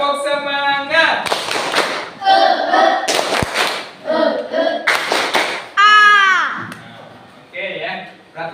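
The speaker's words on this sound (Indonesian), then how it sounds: "kita tepuk semangat lagi yuk" A classroom group performs a rhythmic spirit clap, with bursts of clapping in short patterned rounds mixed with voices chanting along, near and fairly loud.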